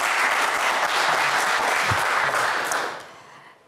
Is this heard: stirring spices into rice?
no